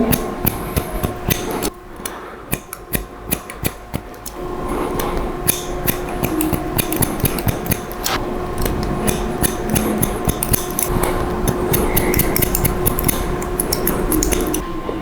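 Scissors slide-cutting hair during a textured medium-length haircut, close and loud, with rapid repeated metallic snips and slicing strokes running continuously throughout.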